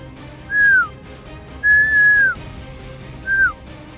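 A hunter whistles to stop a deer in the field in Kansas, three loud, close, falling whistle notes with short gaps between them, the middle note held longest, over faint outdoor background noise.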